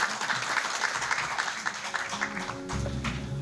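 Audience applause at a conference, a burst of clapping that thins out, with a low hum and a voice coming in near the end.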